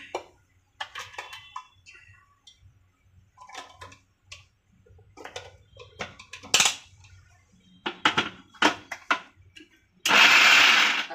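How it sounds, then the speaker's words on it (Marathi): A kitchen mixer grinder crushes corn kernels in short on-off pulses, heard as scattered clattering and rattling bursts before a loud, sustained whirring burst at the end; no one speaks. "चालू बंद करून मका फिरवायचं आहे"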